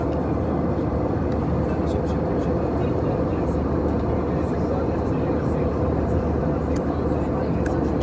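Steady, even airliner cabin drone in flight, a dense, unbroken low roar with no change in pitch or loudness throughout.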